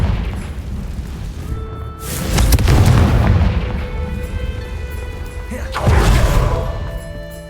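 Confringo spell blasts in the video game Hogwarts Legacy: two loud, booming explosions a few seconds apart, each rising sharply and then decaying into a rumbling tail.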